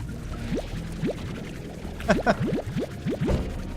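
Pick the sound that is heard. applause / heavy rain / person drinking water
person drinking water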